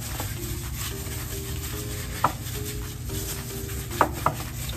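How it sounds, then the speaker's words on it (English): A meatball mixture with breadcrumbs is stirred, giving a soft, steady rubbing and mushing texture at low volume, with a couple of faint clicks and a constant background hum. "Get this stirred up here."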